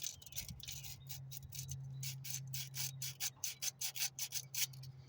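Hand-cleaning and sanding a small distributor part from a 1980 Ford E150 van, heard as a close, quiet series of rhythmic rubbing and rasping strokes that speed into short regular scrapes over a low steady hum.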